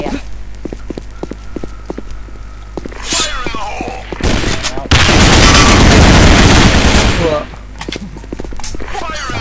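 AK rifle fire in the online shooter Sudden Attack: a sustained, loud burst of rapid automatic gunfire in the middle, with quieter game sounds before and after.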